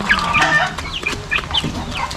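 Chickens cluck busily in a steady, overlapping chatter as feed is scattered, with a short high cry rising above the close flock.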